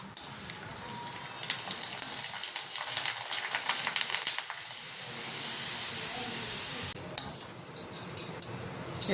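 Papads fry in hot oil with a dense, steady hiss and sizzle, followed near the end by a few sharp clinks of a metal utensil against the pan.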